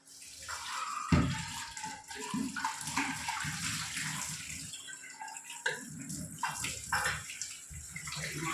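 A steel tea thermos is washed under running water, with gushing and splashing, a sharp knock near the start and uneven sloshing as it is rinsed, close by.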